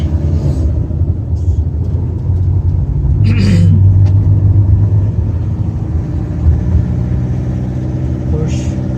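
A Porsche drives past on Sacobia Bridge in Mabalacat, its low engine rumble swelling briefly midway before settling back into a steady drone of traffic.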